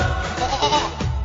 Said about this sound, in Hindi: ओ बकरा ओ बकरा